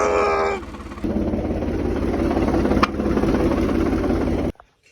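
Tractor diesel engine idling with a thresher attached, a steady mid-low throb close by; a louder revving segment opens, then even idling continues with a brief knock before cutting off abruptly near the end.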